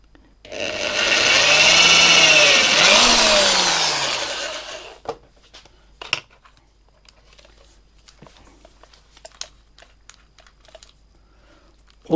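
A small drill whines loudly for a few seconds boring a 2mm hole, its pitch rising and falling, then stops, followed by scattered light clicks and taps.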